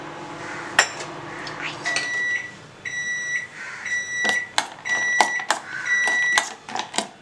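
A microwave oven frying cashews in ghee hums steadily, with repeated sharp electronic beeps from its keypad and a few clinks of a dish, all fairly close.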